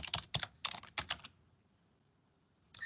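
Quick bursts of keystrokes on a computer keyboard as a search is typed, a close, crisp clatter in several short runs followed by a pause and a final tap.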